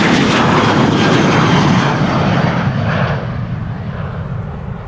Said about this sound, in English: ULS Airlines Cargo. A330-300